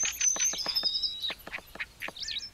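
A starling in the Volga Delta sings a rapid, varied phrase of sharp clicks, whistles and buzzy notes, mimicking other birds' calls, close and clear against a quiet background.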